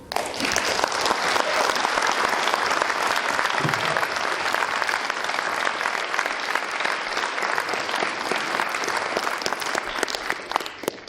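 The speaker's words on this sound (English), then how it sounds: "everybody you saw on stage and seen on stage now needs a huge applause" Sustained applause from an audience at a Mandela celebration, dense and steady for the full stretch, loud and close with no pause.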